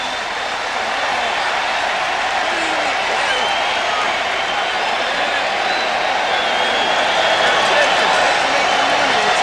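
A baseball stadium crowd at a 1993 Red Sox game cheering, a loud continuous roar that stays steady throughout with a broadcaster talking over it.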